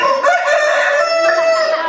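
A rooster crows loudly and close by, one sustained, drawn-out cock-a-doodle-doo with clear harmonic tones and no other sounds.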